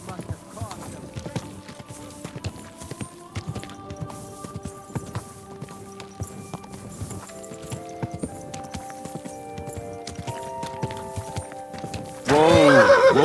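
In Kingdom Come: Deliverance II, hooves clip-clop steadily over light background music, then a horse lets out a sudden loud whinny at the end.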